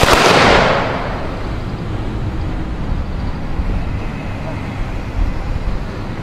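A rifle volley salute fired on command at a ceremony: one loud, close burst of shots at the start, then a fading rumble and low outdoor noise.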